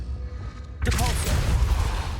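Depulso force spell cast in Hogwarts Legacy: a sudden loud whooshing burst with a shimmering magical sweep that lingers and rumbles for over a second.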